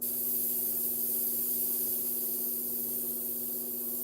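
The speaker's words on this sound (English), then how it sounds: "Yeah, I'm getting a small spray pattern there" Airbrush spraying paint onto a model half-track, a steady close hiss of air and paint mist lasting throughout, with a constant low hum running beneath it.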